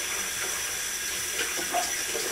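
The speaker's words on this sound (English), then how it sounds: "Take it over to the sink, and you put some water in it." Tap water runs into an instant soup cup at a kitchen sink, a steady splashing hiss with slight changes in pitch as the cup fills, no talking.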